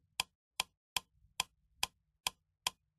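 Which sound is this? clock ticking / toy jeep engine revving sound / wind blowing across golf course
clock ticking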